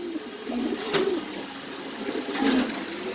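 Pigeons at a breeding farm give a few soft, low coos at intervals over a quiet background, with a couple of brief sharp clicks or knocks nearby.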